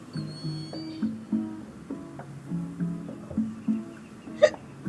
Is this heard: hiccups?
yes